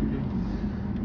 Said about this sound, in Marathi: आवाज येतोय गाड्यांचा.